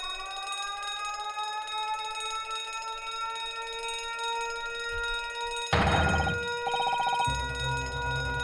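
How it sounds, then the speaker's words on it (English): An in-game alarm in The Great Ace Attorney rings out as a loud, sustained electronic bell tone, steady for several seconds before a burst of louder, harsher clanging pulses near the end. "The alarm's ringing."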